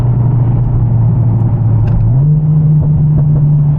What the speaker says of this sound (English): And the downshifts are brutal.